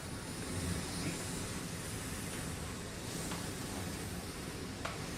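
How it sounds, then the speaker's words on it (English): Waves wash over a shingle beach in a quiet field recording, a soft, steady roar of surf and hiss with faint wind and no voices. "It's clearly the waves on a shingle beach"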